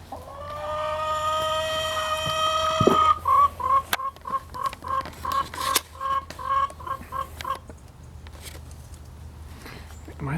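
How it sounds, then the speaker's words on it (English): Several large golden roosters cluck in a steady, rhythmic run of calls close by, preceded by a sustained harmonic crow-like call; a little talk is mixed in. "these are roosters and they're huge"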